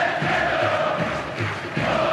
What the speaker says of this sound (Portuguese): Canta, canta alto, canta bonito a torcida do Curitiba empurrando o time.